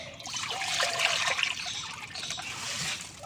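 Water trickles and splashes steadily into a pan in a village kitchen, a close continuous pour lasting a few seconds with no talking.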